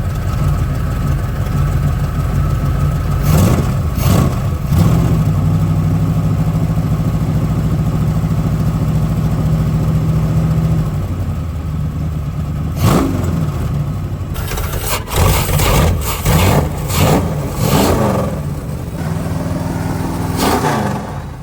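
Engine of a 1986 Dodge D150 pickup truck running steadily, a loud continuous rumble with several bursts of revving, heard alone without talk.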